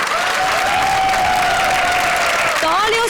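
A television comedy show's studio audience applauds, a dense, loud, continuous wash of clapping under a sustained voice, with a brief musical swell near the end.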